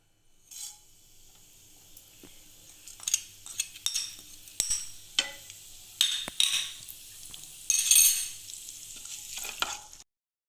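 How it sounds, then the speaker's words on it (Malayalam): Cumin seeds crackle and pop in hot sunflower oil as a pan of mango sweet-and-sour is started, with sharp irregular pops over a steady sizzle and occasional utensil scrapes, close and fairly loud. "ജീരകം ഇട്ട് പൊട്ടിക്കുക."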